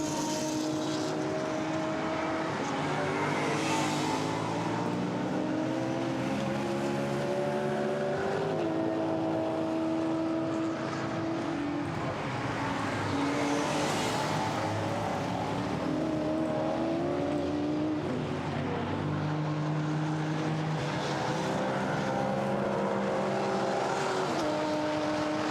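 GT4 race cars, a BMW and a Chevrolet, roar around the Misano circuit, engines rising and falling through gear changes in a continuous loud drone, some passing nearer than others.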